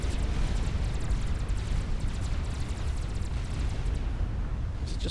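A sustained, roaring blast from an Aeon nuclear explosion in the strategy game Supreme Commander, a dense, even rumble holding loud and steady across the whole stretch with faint crackling on top.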